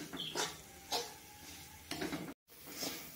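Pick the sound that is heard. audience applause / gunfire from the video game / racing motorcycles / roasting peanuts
roasting peanuts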